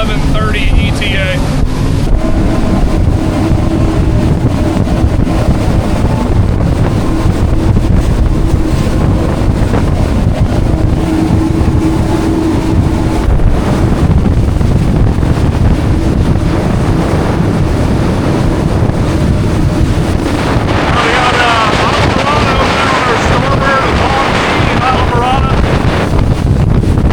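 A Scout 355 LXF boat runs wide open through chop in the Florida Keys, its engines roaring steadily under heavy wind buffeting and rushing water, loud and constant throughout.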